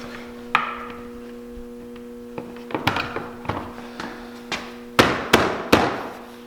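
Hood of a Can-Am Maverick X3 being pressed back into place, several close plastic-and-metal knocks and snaps, spaced unevenly and building to a few louder thumps at the end over a faint steady hum.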